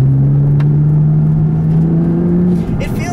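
A 2006 Porsche Cayman S with a manual gearbox drives toward a run of corners, its engine a steady, loud drone with a rising whine that shifts pitch near the end.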